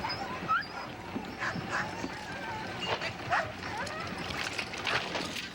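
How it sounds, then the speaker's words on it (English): Eskimo sled dogs in Yellowknife, Northwest Territories, yip, whimper and bark intermittently at moderate distance in the snowy outdoors, with a narrating voice running over them. "tending her team of Eskimo dogs, feeding them a traditional meal"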